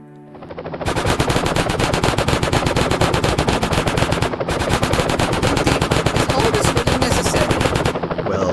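Loud, rapid machine gun fire rattles continuously for several seconds, with only a brief pause midway through the bursts.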